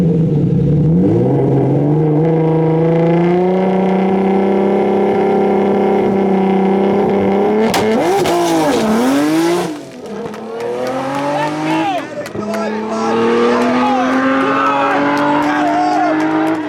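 A drag racing car dropping a cylinder accelerates hard down the track, its loud engine note rising through gears with rough, uneven harmonics and a brief dip midway, while people talk over it.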